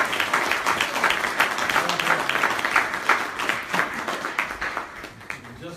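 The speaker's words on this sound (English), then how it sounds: "Let us give our previous speakers a round of applause" An audience at a gathering honouring previous speakers gives a sustained round of applause, dense rapid clapping from many hands that holds steady and eases slightly near the end.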